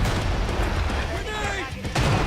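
Cluster strike explosions in a shooter video game, a burst of heavy booms and rumbling blasts up close with a voice talking over them.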